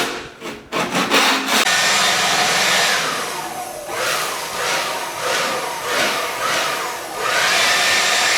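Steel floor scraper pushed across a bare concrete floor during prep for a flaked epoxy coating, a loud continuous rasping scrape in long strokes with brief pauses between passes.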